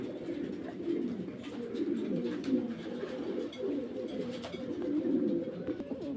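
Pigeons coo in soft, rolling low phrases that repeat through the clip, several birds close by and overlapping in a steady murmur, with no talk over them.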